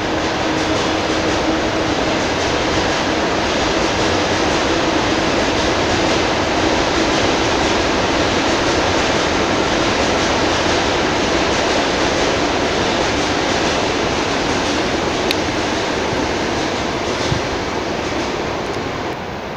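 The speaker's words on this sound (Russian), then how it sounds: "Вновь электричка." An electric commuter train rumbles past nearby at night with a steady, dense roar of wheels and wind that fills the whole stretch, no voices.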